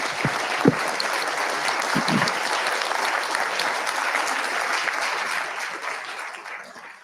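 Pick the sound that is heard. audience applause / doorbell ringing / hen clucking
audience applause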